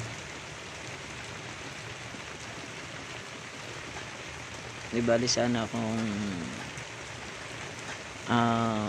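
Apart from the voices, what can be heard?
rain falling on a farm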